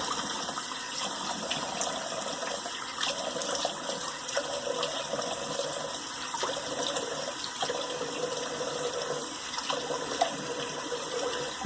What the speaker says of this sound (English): Doing what we call a cold water rinse.